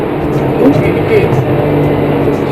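A Porsche 911 Carrera S of the 991 generation with a PDK gearbox, held in second gear while accelerating up to about 110 km/h, gives a steady, loud engine drone from inside the cabin that carries on without a break.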